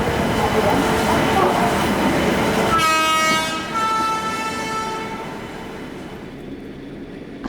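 The Mumbai Chhatrapati Shivaji Maharaj–Chennai Express passenger train rumbles loudly and close. A sustained horn blast sounds midway before the rolling noise gradually fades. A voice is briefly heard.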